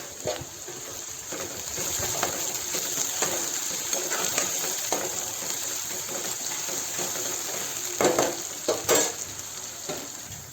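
Onions sauté in a pan while a Misal Pav is being made, giving a soft, continuous sizzle broken by light stirring scrapes and a few sharper clinks near the end.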